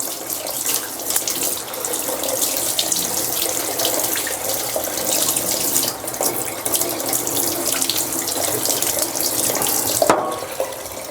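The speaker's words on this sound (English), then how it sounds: "CRC Hot Shot washes straight out in cold water." Cold tap water runs steadily into a laundry sink while a foam air filter is rinsed of CRC Hot Shot cleaner, a continuous close splashing rush with small shifts as the foam is worked under the stream.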